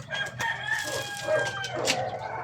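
In a simple backyard coop with chicks, chickens cluck and crow loudly at close range, their calls overlapping continuously over a low farmyard hum.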